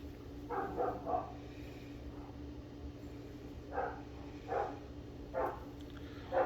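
A dog barks in short separate bursts at a distance, repeating several times over a steady low hum, with no talk.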